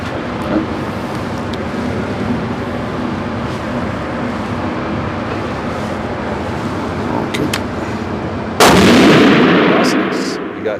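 A single loud rifle shot firing Hornady ammunition cracks out near the end, sharp and close, over a steady bed of outdoor background noise.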